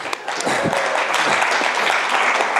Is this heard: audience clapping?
yes